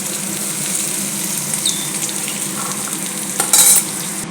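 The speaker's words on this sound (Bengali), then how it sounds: "হালকা করে ভাজি করে নেব। আমার সবজি ভাজি হয়ে গিয়েছে," Vegetables fry over low heat in a pan and are stirred. A loud, continuous close-up sizzle runs throughout, with occasional scraping strokes and a brief brighter clatter near the end, and no voices.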